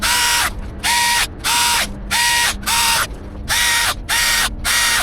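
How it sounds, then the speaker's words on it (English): An old corded electric drill runs in about eight loud, close bursts with short gaps between them, whirring and rattling during work on a building addition with metal roof and walls. "I like to use this old electric drill. It's faster."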